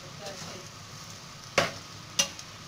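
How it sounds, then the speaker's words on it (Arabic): Offal frying in a pan, a faint sizzle with two sharp crackling pops near the end, quiet and close. "وانا دلوقتي هحمر اهو"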